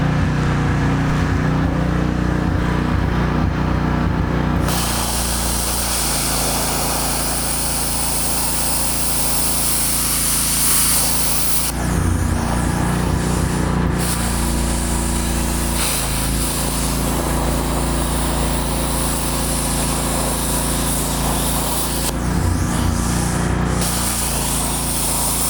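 A BESTARC plasma cutter on 220 V, 30 A running in a long, loud, steady hissing roar with a continuous low hum, shifting briefly as the arc starts and stops, with no voices.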